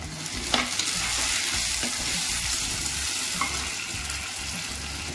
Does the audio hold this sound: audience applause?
no